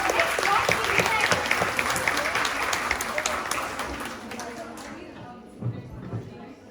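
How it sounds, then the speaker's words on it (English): An audience at a Microsoft Ambassadors technology event gives sustained applause for a speaker called to the stage, dense clapping that fills the room for several seconds before thinning out and fading. "Everybody give a round of applause for Ms. Roshni Vijayan."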